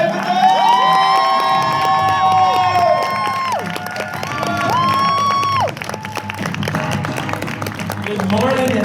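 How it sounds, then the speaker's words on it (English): Crowd at an Indiana Comic Con celebrity panel for Joey Fatone cheering, whooping and clapping loudly and continuously, with shouting voices rising over the sustained applause throughout. "Please give you a round of applause for Joey Fatone!"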